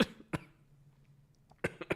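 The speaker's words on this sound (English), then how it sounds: "you're making me cough" Several sharp coughs, one early and a tight cluster near the end, close and abrupt against near silence.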